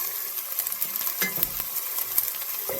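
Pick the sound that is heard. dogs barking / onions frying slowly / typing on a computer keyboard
onions frying slowly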